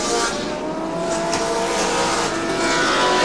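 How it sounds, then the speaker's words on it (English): Touring cars racing at Winton Raceway in a 1989 championship round, a loud continuous engine roar with revving and tyre noise, close and sustained throughout without talk. "And Mark Skaife through to the lead"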